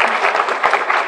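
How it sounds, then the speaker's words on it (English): A brief burst of applause from a community health meeting audience, a dense flurry of many hands clapping for about a second, near and fairly loud. "Let's give them a round of applause."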